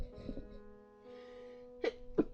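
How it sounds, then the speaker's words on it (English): A person sneezes twice in quick succession near the end, two sharp, close bursts after a stretch of quiet background tones from a dating-sim game. "I gotta sneeze."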